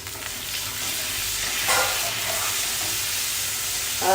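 A couple of tablespoons of water poured into a hot tempering of chilli, curry leaves, asafoetida and turmeric give a sustained hissing sizzle with a surge partway in and stirring scrapes near the end.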